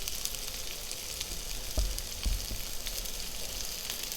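Vegetables and tomato purée for veal tendrons sizzle steadily in a pan, a close, even frying hiss with a couple of soft low knocks midway.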